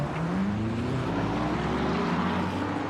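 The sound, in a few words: race cars braking at Interlagos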